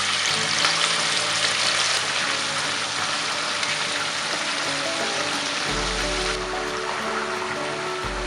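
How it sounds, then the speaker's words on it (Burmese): Chicken frying with fried tofu skin in a pan on low heat, a continuous dense sizzle and crackle that stays steady throughout, close up with no talking. "ကြက်သားကို ပဲပြား6ကြော်ထားတဲ့စီကြီးလေးထည့်ပြီးတော့မှမီးချင်းချင်းနဲ့ကြော်ပေးမယ်"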